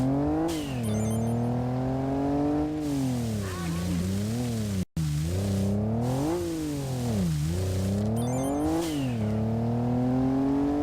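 A car drifts through corners in the video game Kaido Racer, its engine droning and rising and falling in pitch as it revs and slides, loud and continuous with one brief dropout.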